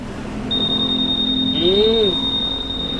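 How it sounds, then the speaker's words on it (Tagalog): A steady high-pitched electronic alarm tone from a Honda ADV 160 motorcycle sounds continuously, with a short warbling sweep partway through over a low background hum. "Tapos may alarm din yan sir."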